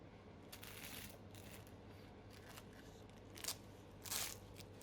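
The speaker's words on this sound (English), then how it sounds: "Oh, listen to the crunch." Quiet, crisp crunching as flaky filo pastry on a layered ground beef borek is cut with a knife, with a couple of sharper crackles near the end.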